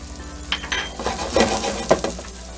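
Granulated garlic and onion toast briefly in a pan with pepper, heard as a short, close sizzle broken by a few utensil scrapes and clinks against the cookware.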